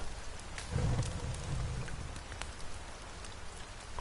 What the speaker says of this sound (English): Maybe should let it rain for a little bit to collect water in the turtle shells.